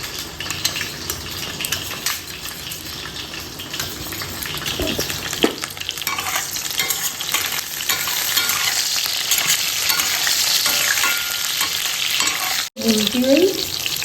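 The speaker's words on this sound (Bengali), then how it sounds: "তো এটাকে মিক্সড করে ফেটিয়ে দিচ্ছি একটু ভালো করে" Sour curd stirred and beaten with mustard powder in a bowl, a steady close scraping and clinking of utensil against the vessel with soft wet churning, continuous throughout and without talk.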